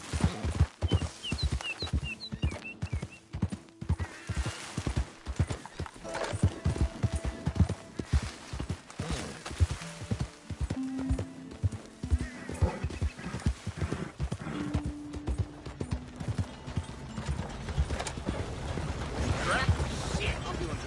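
Horse hooves clip-clop at a steady gallop in Red Dead Redemption II, loud and close and continuing throughout, with a voice talking over it at times.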